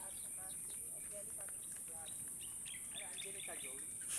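Birds chirp and tweet in a mountain forest, with short bright calls repeating over a steady high hiss. A person talks at times in the background.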